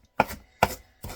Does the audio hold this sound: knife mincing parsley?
yes